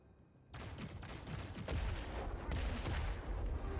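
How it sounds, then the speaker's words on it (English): A wrist gadget in The Expanse Osiris Reborn firing a synchronized volley of six kinetic missiles, heard as an abrupt loud onset of rapid, overlapping booming blasts that build into a dense, sustained barrage. "This wrist gadget launches a synchronized volley of 6 striking missiles, delivering 900 points of flat kinetic damage."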